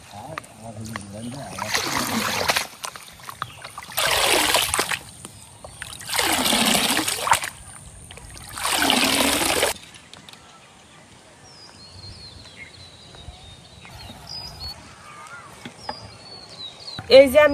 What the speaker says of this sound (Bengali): শাকটিরে ভালো মতো পানি দিয়ে ধুয়ে আনছি